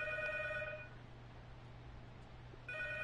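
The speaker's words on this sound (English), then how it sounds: "Do I pick up the phone?" A telephone rings in the horror video game P.T., a bright electronic ring heard in two bursts, one at the start and another near the end, over a quiet, low ambient hum, with no talking.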